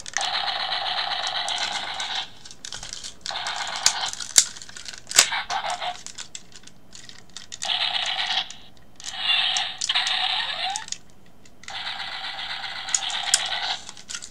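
A Transformers toy figure is worked joint by joint, producing bursts of dense ratcheting clicks in several separate runs with short pauses between, close and fairly loud.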